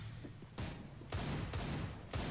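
Gunfire rings out in the Counter-Strike: Global Offensive video game as four loud, sharp shots spaced roughly half a second apart, close and heard without talk.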